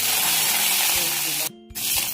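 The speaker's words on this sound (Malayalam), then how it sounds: "കടുക് പൊട്ടുമ്പോൾ" Mustard seeds spit and splutter in hot coconut oil while a Kerala-style coconut chutney is made, a loud, dense hiss with a brief sudden cutout near the end.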